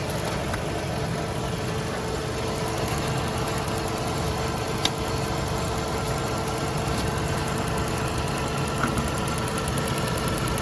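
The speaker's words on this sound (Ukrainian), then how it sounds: "Мотор працює рівненько" A car engine idles steadily at close range, an even mechanical hum with a faint ticking rhythm and no talking.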